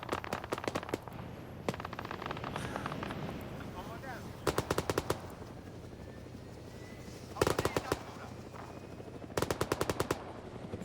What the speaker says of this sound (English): We have an autocannon somewhere in the vicinity